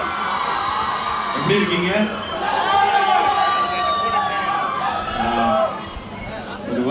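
A large crowd at a public event for actor Sivakarthikeyan cheers and whoops in a sustained roar, with shrill individual shouts rising over the babble while a voice speaks over it.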